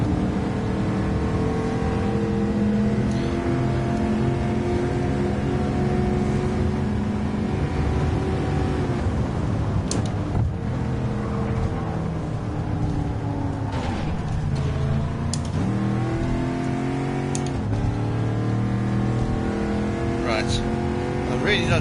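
A Chevrolet Camaro race car in the Gran Turismo 7 racing game gives a loud, sustained engine roar that rises and falls in pitch with gear changes and throttle throughout.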